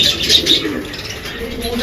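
Racing pigeons coo in a loft, a soft continuous murmur of several birds close by, with light chirps and faint wingbeats mixed in and no talking.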